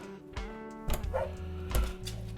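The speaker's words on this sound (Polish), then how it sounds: "Mój kochany piesek. Taki śliczny piesek." A pet dog gives a few short yips and barks indoors, close and moderately loud, spaced out over a couple of seconds.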